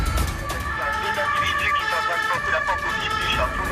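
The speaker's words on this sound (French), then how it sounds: "Ils traversent donc la ville, sirène hurlante" A police car's siren wails steadily through the streets of Saint-Quentin in northern France as officers race across town to a burglary. Its rising and falling tone stays loud and continuous over traffic rumble.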